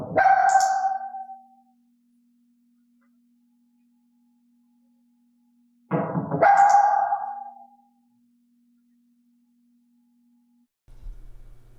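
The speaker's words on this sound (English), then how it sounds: "In the case of Elaine, I knocked the wall to prompt a bark, and clicked then treated for the bark." A dog barks on cue during training, two separate bursts about five seconds apart, loud and close, with a faint steady tone lingering between them and a soft knock near the end.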